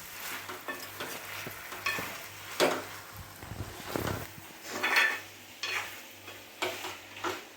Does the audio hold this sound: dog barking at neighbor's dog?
no